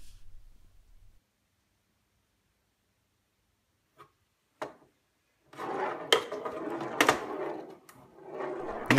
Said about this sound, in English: so this is the machine in action. And I'm quite happy about how the flippers turned out.